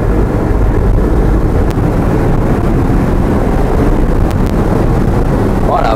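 Heavy wind buffeting roars over the open cabin of a Mazda MX-5 RF convertible on the move, a loud constant low rumble with road noise underneath.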